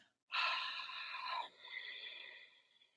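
A long, raspy breath drawn through a constricted throat, exhaled steadily and softly with an ocean-like hiss, close to the listener.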